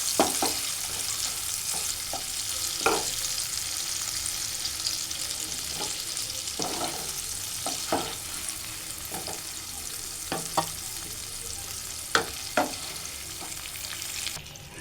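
Shrimp fry in hot oil in a pan, a steady close sizzle broken by scattered sharp pops and scraping stirs, with no talking.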